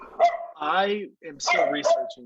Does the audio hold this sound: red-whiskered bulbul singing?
no